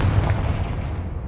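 A Confringo spell blast in Hogwarts Legacy: one continuous, heavy booming rumble that stays loud and low for its whole short length, with no talking.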